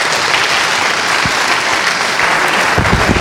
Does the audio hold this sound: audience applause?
yes